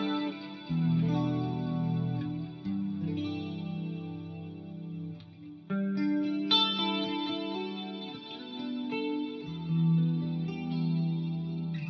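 Electric guitar run through an 80s-style Fractal factory preset, chorus-laden and shimmering with echo, playing sustained chords and ringing melodic lines continuously and loudly with no talking.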